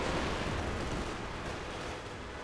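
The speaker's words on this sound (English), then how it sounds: "IS-152 firing away." IS-152 artillery fires in Company of Heroes 2, giving a heavy, rumbling boom that fills the sound and then fades slowly, loud and close, with no voices over it.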